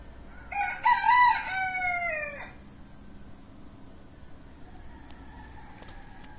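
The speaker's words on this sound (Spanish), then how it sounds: "el cantar de mis gallos" Roosters crowing at a home garden: one loud, close cock-a-doodle-doo early on, then quiet yard ambience with faint distant crowing and bird calls.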